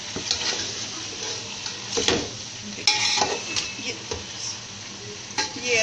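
Chicken (charga) frying in a pan over medium heat, with a soft continuous sizzle broken by scraping and clinking as a utensil turns the pieces, several sharp knocks against the pan.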